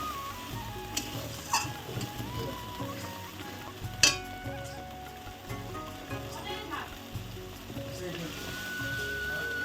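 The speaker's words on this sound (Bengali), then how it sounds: "চিংড়ি মাছটা ঢেলে দিলাম যাতে ভালো করে সিদ্ধ হয়ে যায়।" Prawns poured into a simmering milk-based malai curry gravy in a pan, giving a steady close sizzle and bubbling with occasional stirring clinks, under background music.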